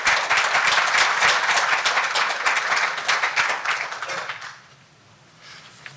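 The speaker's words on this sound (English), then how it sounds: "please give him a round of applause" Audience at a business gathering applauding a school superintendent, a loud, dense burst of many hands clapping that fades out after about four seconds, leaving quiet room tone.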